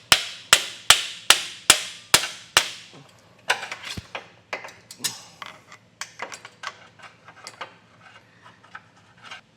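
A hammer strikes a pry bar six times in a steady, sharp metallic rhythm to knock loose a nut while installing a Blue Ox base plate on a 2023 Jeep Grand Cherokee, followed by scattered lighter clanks and scraping of tools.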